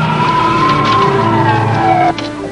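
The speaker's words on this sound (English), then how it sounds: "Put the sirens on." A loud police car siren wails with a slowly falling pitch over a running vehicle engine, cutting off abruptly near the end.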